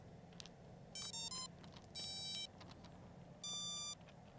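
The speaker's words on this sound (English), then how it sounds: "You'll hear a series of beeps." Go Go Bird Eagle 1020 remote control bird beeping after being switched on: three separate electronic tone bursts, each about half a second, with a quiet background between them.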